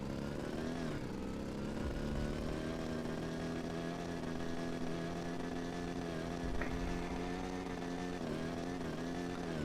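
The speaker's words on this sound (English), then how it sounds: "I would say the motorcycle or motorbike, whatever you want to call it, is very, very forgiving on hills" A motorbike in the survival game Rust rides over hilly, bumpy terrain, its engine droning steadily and close with a low harmonic hum that shifts slightly as it revs over lumps and obstacles, with no talking.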